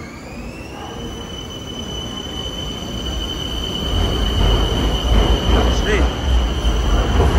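A train departs from a station in Bangkok, its rumble building and growing louder partway through, with high tonal whines and wheel squeal over the rolling noise while a person briefly speaks nearby.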